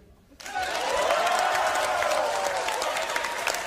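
A comedy club audience gives a short burst of clapping and murmured crowd noise that starts abruptly and holds steady for about three seconds, sounding thin and half-hearted.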